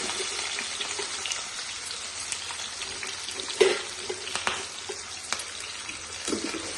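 Onions, tomatoes and green chillies fry softly in a pan, a faint steady sizzle with occasional light pops and taps of a utensil.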